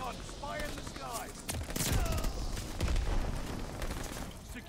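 Rapid SMG bursts fire in Call of Duty: Vanguard using the Global Actor blueprint, with loud, dense automatic volleys and booming impacts across the whole stretch and game chatter running underneath.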